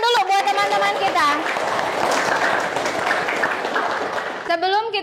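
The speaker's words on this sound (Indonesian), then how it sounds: "Tepuk tangan dulu buat teman-teman kita." An eighth-grade classroom of students bursts into applause, a dense, loud wash of clapping between bursts of excited voices at the start and end, with children cheering over it.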